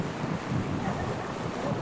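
Ocean surf at a beach in Cancun, a continuous low rumbling wash of waves mixed with wind buffeting the microphone, steady and fairly faint.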